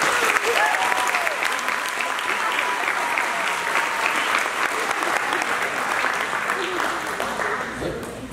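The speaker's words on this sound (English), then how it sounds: "let's give these guys a round of applause" Steady audience applause at a high school athletic banquet, a dense wash of clapping that holds evenly for the whole stretch, with faint voices underneath.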